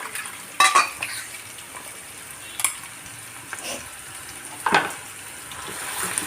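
Pepper, cumin and fenugreek fry lightly in a little oil for a Mangalore-style fish curry, with a soft hiss. A few sharp utensil scrapes and clinks punctuate the quiet background.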